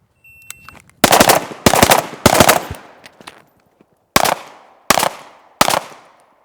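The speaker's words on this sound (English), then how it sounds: "9 shots fired." Nine sharp pistol shots cracking out during a timed box drill on a shooting range: an opening burst of three, a pause, then a trailing group, each loud report close and alone.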